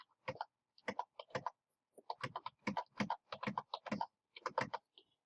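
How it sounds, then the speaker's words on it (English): Calculator keys pressed one after another to enter x values into a list, a quick run of close, crisp clicks in uneven bursts with short pauses between groups. "in L1 I'm going to type in my x values"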